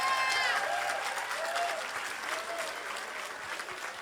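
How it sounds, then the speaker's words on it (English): Sustained applause from a concert audience, a steady mid-level wash of clapping with a few cheers and whistles rising above it. "big round of applause, of course."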